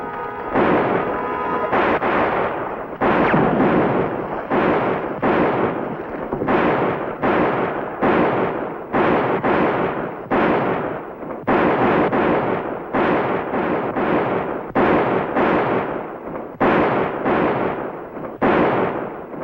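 Gunfire in an ambush fight scene from the TV western Riverboat, heard as loud, close, evenly spaced blasts repeating roughly every second with no talk over them.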